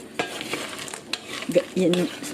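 Pork skin chicharon frying in its own rendered fat, with soft stirring and scraping of the pieces in the pan and a fuller sizzle rising near the end, close and moderately loud.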